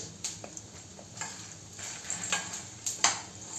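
Asafoetida dropped into a hot pan while preparing karri powder, giving a low, steady sizzle with several light stirring scrapes and a few sharper clinks of the spoon against the pan, close and fairly quiet.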